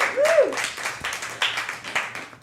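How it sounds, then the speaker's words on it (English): A comedy show audience gives a round of applause, scattered claps from the crowd with a brief rising-and-falling whistle near the start. "give her a round of applause"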